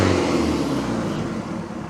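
A 1976 Mercruiser 120hp marine engine, its carburetor just fixed, revs up smoothly from idle in a loud, close, steady engine roar lasting under two seconds.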